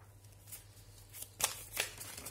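Tarot cards being shuffled and drawn during a reading, a few quick papery rustles and snaps close by, with no talk during the sounds.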